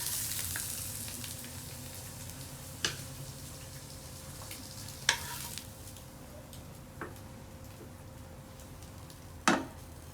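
An egg frying in oil in a pan for an English breakfast, giving a steady soft sizzle throughout with a few brief louder crackles and spatters.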